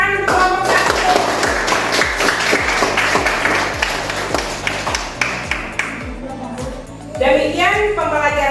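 Students in a classroom clap for a group, a thick burst of rapid claps for about six seconds that then thins out as voices take over.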